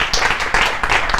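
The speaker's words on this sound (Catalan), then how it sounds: "Bueno, jo crec que es mereix un aplaudiment," Audience applause at a workshop on disruptive technologies for local governments: a brief, steady wash of many hands clapping, fairly close and full throughout, with no voices over it.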